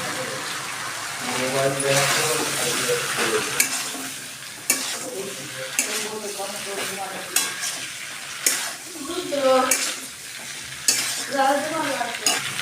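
Boiled vegetables, including pumpkin and sweet potato, fry and get stirred with spices in a pan for a Bengali shukto, giving a steady sizzle broken by repeated scraping stirs, with a voice talking over the cooking throughout.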